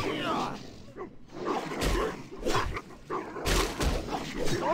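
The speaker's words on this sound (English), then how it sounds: "Don't kill the damn dog." A dog in the video game World of Warcraft Classic barks and whimpers in several short bursts spread across the stretch, mixed with combat noise and other game sounds.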